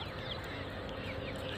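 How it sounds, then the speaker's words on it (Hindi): Chickens of Kadaknath, Aseel and desi breeds cluck on a small poultry farm, a dense steady murmur of many birds with a few clucks standing out, moderately close and with no talk. "कौन सी नस्ल की मुर्गी है ये?"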